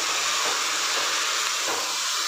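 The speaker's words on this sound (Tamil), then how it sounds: "இதுவும் நல்லா வதங்கட்டும்." Cut tomatoes sautéing in a pan for a spiced variety rice dish, a steady dense hiss running evenly throughout with no breaks and no voices.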